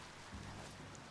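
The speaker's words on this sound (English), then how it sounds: "Damn, rain." In the video game Biomutant, rain falls as a steady, even hiss, soft and continuous through a brief moment, with no talking.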